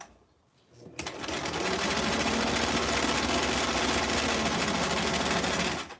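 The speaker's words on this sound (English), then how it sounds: "Drop the presser foot and let's start sewing." A sewing machine stitches a dress at about twelve stitches per inch. After a quiet second it starts and runs as a close, loud, steady rapid whirring chatter for about five seconds before stopping.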